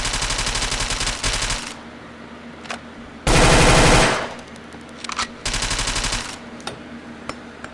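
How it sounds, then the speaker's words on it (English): A P90 submachine gun in the Gun Club VR video game fires rapid full-auto bursts, close and loud, with several separate strings broken by short pauses and a few quiet clicks. "This is called a P90."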